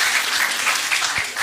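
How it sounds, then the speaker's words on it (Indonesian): Brief burst of steady, dense applause from a student audience at a campus general lecture on entrepreneurship, loud and continuous without talk. "Boleh tepuk tangan sekali lagi dong rekan-rekan semua ya."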